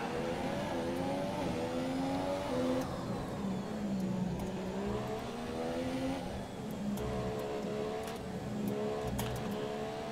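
A damaged Formula 1 car engine in the F1 2017 racing game at Baku drones continuously, its pitch rising and falling through gear changes as a steady, close mechanical whine fills the whole stretch.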